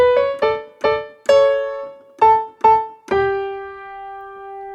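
Short piano tag from a worship song: seven sustained notes and chords struck in a halting rhythm, the last one ringing out, played solo and close.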